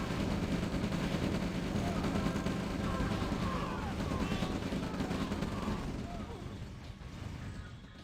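V2 rocket launchers fire in the Red Alert 2 video game amid a dense, continuous wash of battle noise, with a voice talking over the top throughout.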